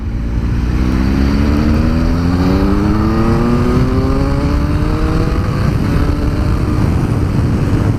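A 2018 Triumph Speed Triple RS motorcycle accelerates hard through several gears, its engine note climbing in repeated rising sweeps, loud and close with steady wind roar throughout.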